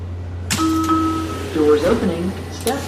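Two-tone door chime on a WMATA Metro train, a pair of clear steady electronic tones ringing over the hum of the car, followed by a muffled automated announcement and cabin noise.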